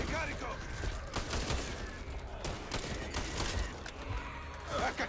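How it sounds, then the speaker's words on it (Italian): Gunfire in the zombie shooter Back 4 Blood: steady bursts of shots run throughout amid chaotic game noise, under excited talk from players. "mi state sparando in continuazione"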